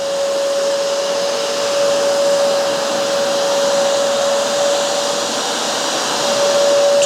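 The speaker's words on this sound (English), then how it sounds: "And the Bissell has done its pass." Bissell Revolution HydroSteam carpet cleaner making a dry pass over carpet, a steady loud motor whine with a constant high tone running unbroken for the whole stretch, no talking.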